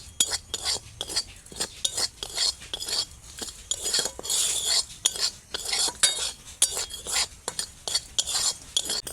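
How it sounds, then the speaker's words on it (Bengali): Dried amla pieces and other herbal hair-oil ingredients, including turmeric powder, dry-roasting in a pan while a spoon scrapes and stirs with steady clinking, rustling strokes, close and fairly loud with no talking. "দেখুন এই তো এইভাবে ভেজে নিচ্ছি ভাজা হয়ে আসছে"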